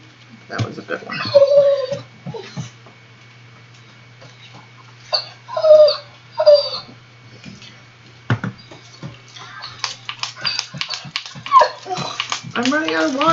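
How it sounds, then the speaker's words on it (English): A pitiful dog whimpering and whining in short high-pitched bursts, a few separate cries close by, mixed in with people talking. "Do you guys hear this pitiful dog?"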